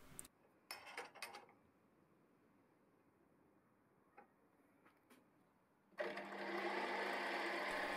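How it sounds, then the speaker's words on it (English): Slitting saw cutting a slot in a small screw held in a collet for a custom electric guitar part: a few short ticking contacts, a quiet stretch, then a loud steady high-pitched cutting whine from about six seconds on. "I'm cutting the slot using a slitting saw."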